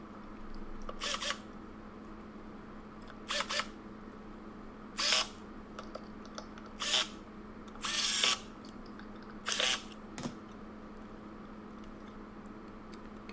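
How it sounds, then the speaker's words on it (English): Screws being driven back into a hoverboard's casing with a power drill during a battery replacement: several short, fairly loud whirring bursts separated by pauses, set against a steady low hum. "Okay, now I'm just putting the screws back in."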